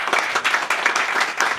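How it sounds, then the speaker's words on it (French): Short round of applause from an audience at a press conference held by a Paris friendship association, many hands clapping briskly and evenly in a brief, fairly close burst. "je vous demande d'applaudir très très fort"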